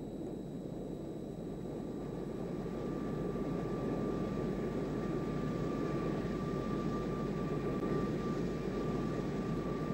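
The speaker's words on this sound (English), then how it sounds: "we are now on final approach for touchdown at Torrejon." A military jet on final approach for touchdown at Torrejon gives off a continuous, even roar with a faint steady whine riding on top, unbroken from start to finish.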